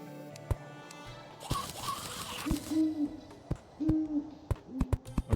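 An owl in the video game Terraria hoots loudly several times over a low game background, alongside sharp clicks and a brief noisy burst.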